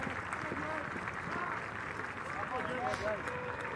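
The crowd at Doug Kingsmore Stadium cheers during a Cincinnati–Clemson college baseball game, a steady, moderately distant roar that sits under a broadcaster's voice.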